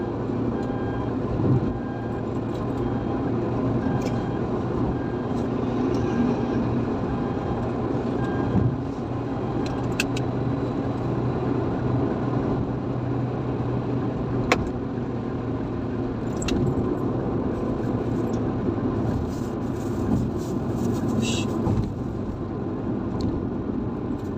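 Dense, steady rumble of heavy traffic on the Stabat–Tebing Tinggi toll road with trucks passing, a constant low drone interrupted by occasional clanks and rattles.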